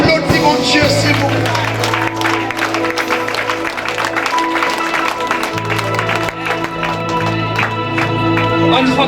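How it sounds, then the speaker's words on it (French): Church congregation applauding at a family conference, with loud continuous clapping mixed with music and voices throughout, a steady dense crowd sound close by. "Applaudis mon Dieu, c'est bon."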